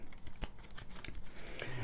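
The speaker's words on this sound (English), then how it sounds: "Okay, so now I'm just going to shuffle these tarot cards" Tarot cards being shuffled by hand, a quick run of soft papery riffles and flicks, close and fairly quiet, with light background noise.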